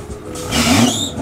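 Datsun GX revving at a drag race start line, its mid-pitched engine swelling loud and steady for about a second amid outdoor raceway noise, with no talk.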